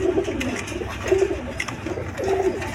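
A pair of pigeons kept for sale coo in soft, repeated low phrases about once a second, close by over a faint hiss of background noise.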